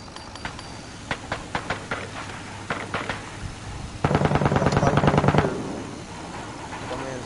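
Automatic gunfire from the Cuisine Royale video game: scattered single shots over the first few seconds, then a dense rapid burst for about a second and a half, over steady game ambience.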